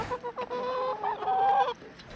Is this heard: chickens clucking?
yes